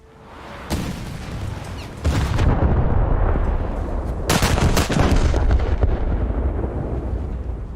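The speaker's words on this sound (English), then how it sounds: "The Bayern is still shooting me with little result." Battleship guns firing in a naval video game, heavy booming salvos with sharp onsets and long rumbling roars that pile up into loud, continuous thunder, with no talking.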